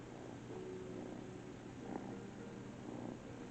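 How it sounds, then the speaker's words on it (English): A cat purring close by, a soft, continuous rumbling with faint rhythmic pulses, steady and quiet throughout with no talking. "Oh, hi, kitten."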